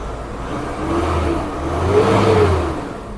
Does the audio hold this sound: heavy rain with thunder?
no